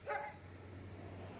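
A dog gives one short sharp bark from a yard. It sounds somewhat distant and is followed by a low outdoor hum.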